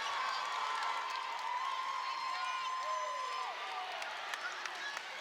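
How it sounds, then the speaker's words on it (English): Loud crowd in a gym cheering and yelling at a 4A high school volleyball state final between Pulaski Academy and Westside, with shouts, whoops and scattered clapping, plus a couple of sharp squeaks rising over the roar. "This crowd, JB, getting loud in red."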